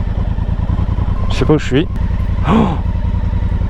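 Honda Africa Twin motorcycle engine running steadily close by on a steep climb, a continuous low rumble under a man's speech throughout.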